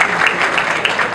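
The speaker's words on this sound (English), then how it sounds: "please give a big round of applause" Audience at a college debate competition applauds, a short burst of dense clapping heard close and loud throughout.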